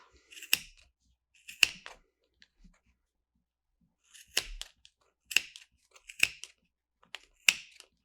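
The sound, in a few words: scissors cutting yarn on a Clover pom-pom maker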